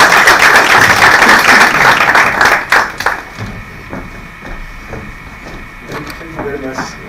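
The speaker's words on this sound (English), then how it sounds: "Can you give a round of applause to the BBC CEO?" Audience applause at an event on access to funding starts loud and dense, then thins to scattered claps and taps with faint background noise in the second half.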